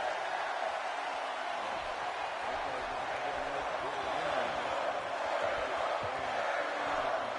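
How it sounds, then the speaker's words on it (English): A wrestling crowd in the WCW Nitro video game roars as a steady, dense cheer under commentators talking throughout. "You hear this crowd?"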